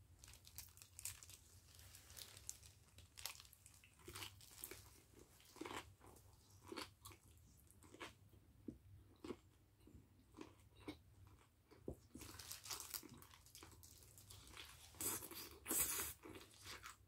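Crunchy homemade kimchi being bitten and chewed close up, a steady run of crisp crunches and wet chewing bursts with short pauses between them, no talking.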